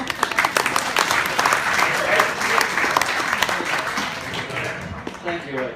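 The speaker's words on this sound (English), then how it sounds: "we can clap for him." An audience at a stand-up comedy show applauds steadily, a dense wash of clapping that fades slightly toward the end, with a voice briefly heard over it.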